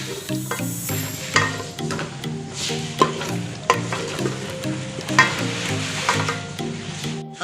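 Potatoes fry in a spiced masala in a pan, a loud steady sizzle broken by repeated scraping and stirring knocks from a spoon, with no talk.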